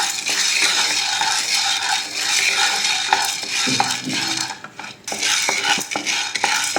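Black pepper is dry roasted in a hot pan for rasam powder, and the peppercorns make a loud, steady rattling scrape as a spoon stirs them against the metal. The stirring goes on without a break and dips only briefly near the end.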